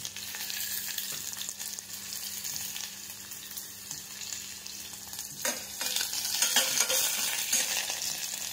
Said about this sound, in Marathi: याच्यामध्ये थोडंसं तेल टाकायचं आहे आणि याच्यात आता आपण कांदा टाकणार